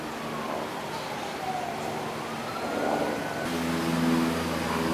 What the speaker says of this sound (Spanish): haces todo este recorrido escuchando el tráfico y los aviones pasando por encima